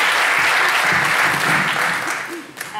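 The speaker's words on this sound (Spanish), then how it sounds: "Sí, podría aplaudir" Press conference audience at the Málaga Festival, for the film 'El hotel de los líos', breaks into loud, close applause that holds steady for nearly three seconds, with faint voices mixed underneath.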